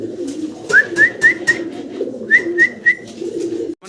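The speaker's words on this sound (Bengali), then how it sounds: "সিলভার কালারের ভিতরে চমৎকার একজোড়া লাহরি কবুতর" A pair of silver-coloured Lahori pigeons coo close by, two short bursts of repeated rhythmic calls over a low background murmur.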